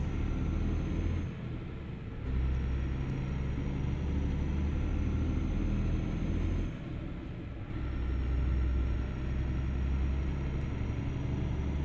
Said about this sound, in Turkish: Otobüsün rölanti sesi de gerçekten çok iyi, çok başarılı. Gır gır gır gır ediyor böyle.